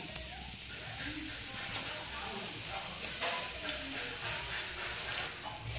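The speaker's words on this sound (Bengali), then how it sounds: "এখন তেল দেওয়া হচ্ছে" Oil sizzles and crackles steadily as food fries in a pan, a dense close hiss with occasional stirring scrapes.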